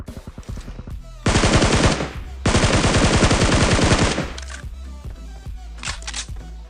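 Gunfire in the mobile battle royale game BGMI: two long bursts of rapid automatic fire, loud and close, set among scattered single shots and softer game sounds, with no speech.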